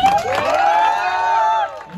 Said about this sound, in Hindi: पप्पू की मम्मी, वो तो उनके लिए जोरदार आप तालियां बजा दो।